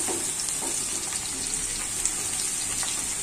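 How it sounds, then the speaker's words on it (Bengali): Eggplant and onion frying in a pan for a chicken and chickpea curry, a soft, even hiss with a few light stirring touches, fairly quiet and close. "বেগুন আর পেঁয়াজ একটু কিছুক্ষণ ভাজবো।"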